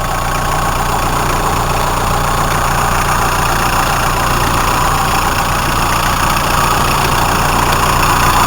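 A Hyundai Starex diesel engine idles close and loud, a constant rough clatter that runs unbroken with no voices over it.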